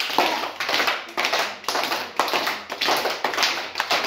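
Children clap their hands in a counting game at a primary school. The claps come in quick bursts of several sharp, close hits, separated by short pauses, with no talking.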